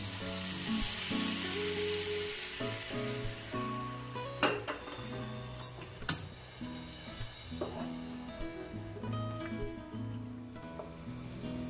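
Boiled water splashes into sizzling matar paneer gravy in a hot pan, setting off a loud steady sizzle with a few sharp clinks of utensils against the pot.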